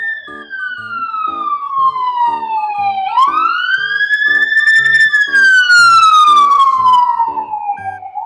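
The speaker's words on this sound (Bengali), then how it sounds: "স্লোভেনিয়ার রাস্তায় অ্যাম্বুলেন্স প্যাপু করছে।" An ambulance siren wails along a street in Ljubljana, Slovenia, loud and near, its pitch falling, then sweeping sharply up and sliding slowly back down, with faint traffic beneath.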